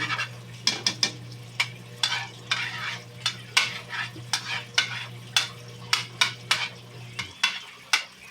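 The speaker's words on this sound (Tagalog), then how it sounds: "Tunawin lang muna natin yung butter" Butter melts and fries in a pan for garlic fried rice while a utensil stirs it. Rhythmic scraping strokes repeat steadily over a soft sizzle and a low hum that cuts out near the end.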